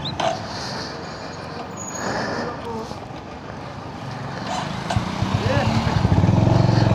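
A motorcycle engine runs throughout with a steady low drone and a slight pressing noise while riding, growing louder and rougher near the end as it revs, with voices talking over it.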